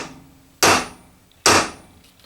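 A brass hammer strikes the end of a steel bolt held against a vise twice, two sharp, loud metallic whacks about a second apart, each ringing briefly and fading, with quiet between.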